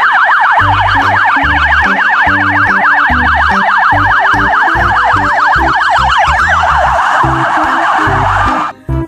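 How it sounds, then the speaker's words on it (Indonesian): Toy police car siren giving a loud, fast warbling wail over a steady rhythmic electronic pulse, running continuously before cutting off abruptly at the end, with no voices. "Yang ini ada mobil polisi."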